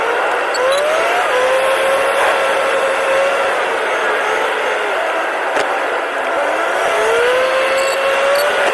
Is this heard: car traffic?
yes